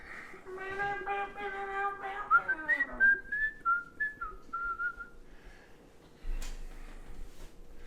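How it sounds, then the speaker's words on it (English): Shrill whistling rings out from a live audience at a stage show, sliding and warbling for several seconds over low crowd noise, followed by a soft thump. "Make some noise for Dennis. Woo! Keep it going"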